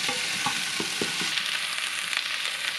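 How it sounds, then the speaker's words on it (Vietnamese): Bamboo shoots and soy-soaked shiitake mushrooms stir-fry in a hot pan, a continuous close sizzle broken by a few light scrapes and clacks of the utensil. "mình xào cái này trong 2 phút nữa thì tắt bếp"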